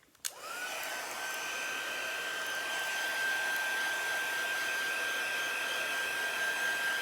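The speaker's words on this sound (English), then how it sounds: "So I've got my heat tool here." A heat tool dries ink on a painted gift box, blowing a steady, loud, whirring rush with a constant high whine that runs unbroken from start to finish.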